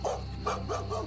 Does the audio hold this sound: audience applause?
no